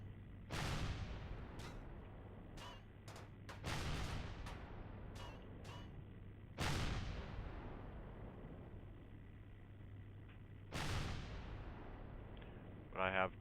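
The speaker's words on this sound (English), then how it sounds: "it's just my ship guns firing on them" Spaceship guns fire at enemies in a space video game, heavy booming shots in small clusters, each blast trailing off into a long rumbling decay over a low steady hum.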